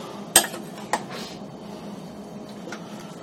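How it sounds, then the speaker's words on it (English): A spoon stirring carne guisada with tomato sauce and seasonings in a crock pot: two sharp clinks against the ceramic pot, then low scraping and stirring, close by and alone. "Give this a little stir just so the seasonings get down on all the meat."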